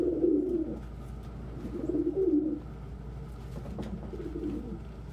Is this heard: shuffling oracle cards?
no